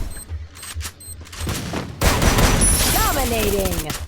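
Gunfire in the video game Free Fire, with rapid bursts of shots that swell into sustained loud automatic fire and sweeping effects, while someone speaks over it.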